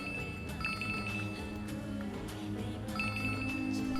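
A telephone rings in two short trilling bursts, a few seconds apart, over a low background hum.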